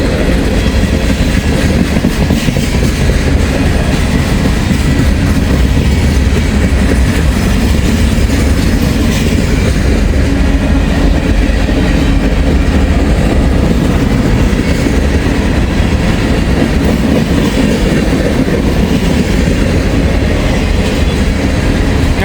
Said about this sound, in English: They are quite long if it is a transfer train.